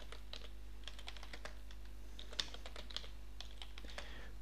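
Quick clicking keystrokes on a computer keyboard as an email and password are entered, a close, fairly quiet run of uneven taps over a low steady hum.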